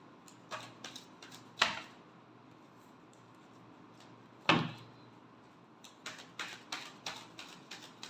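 Tarot cards being shuffled by hand: quick papery riffling bursts near the start and again toward the end, with a couple of sharper taps between them and a quiet, steady background.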